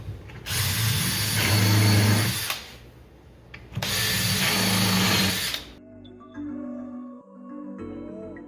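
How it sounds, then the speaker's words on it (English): A power drill pre-drills screw holes in a wall for assembly with self-tapping screws, two loud sustained whirring bursts a few seconds each, close by, followed by quieter ratcheting and mechanical clicks. "At this point, we can pre-drill our holes"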